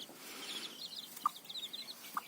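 Newly hatched baby chicks peeping on a small farm, with a few thin, high cheeps and two short, clearer chirps, faint and close, with no talking.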